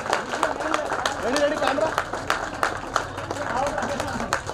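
A group at a December batch reunion clapping loudly, a quick run of sharp claps with a voice speaking over them.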